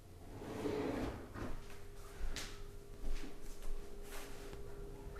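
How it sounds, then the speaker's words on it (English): A cabinet drawer in a new-construction home kitchen slides open with a soft rumbling glide, followed by a few light knocks and clicks, close and fairly quiet, with no talking. "I'm gonna open up another cabinet here so you can get a good idea."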